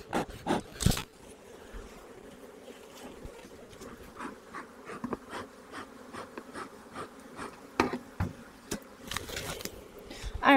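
Honey bees buzz around an open hive during a beekeeping inspection, a close, restless hum with sharp passes of individual bees darting near, rising and fading irregularly throughout.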